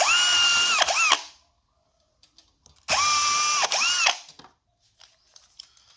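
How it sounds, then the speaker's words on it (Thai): A power drill bores pilot holes through scrap steel while a folding chair is being built. There are two separate whining bursts, each about a second long and loud and close, with quiet clicks and handling noises in between. "ผมก็จะใช้ สว่านนะผมในการเจาะนำรูเหล็กไม้"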